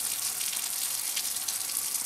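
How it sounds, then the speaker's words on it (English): A steady hiss of water pouring out of a 100-foot GardenJoy expandable garden hose that has been turned off, continuous and fairly loud, with no talking. "Now this water is still running. The hose is off. I still got water running."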